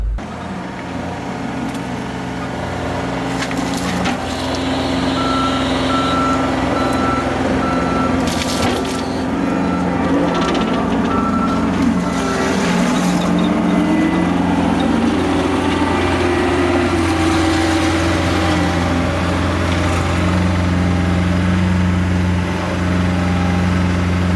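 A truck reverses at a homestead while unloading a huge pine tree: a steady reversing beep repeats over a loud, close, idling engine rumble that continues throughout.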